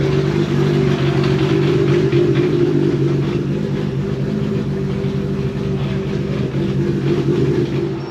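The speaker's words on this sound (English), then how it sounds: "Car's finally running, thank God." A Nissan R34 car engine idles steadily with a low, even rumble and faint clatter, running continuously and close by with no talking.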